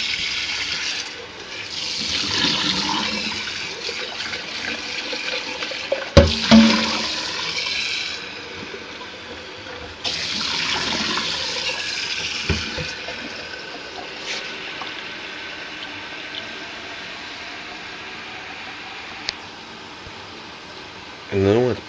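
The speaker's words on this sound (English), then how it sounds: "I am just going to simply turn the handle and water will magically appear." Water running from a kitchen tap into a coffee pot, a steady broadband hiss that swells and eases as the flow changes, with a voice talking over parts of it.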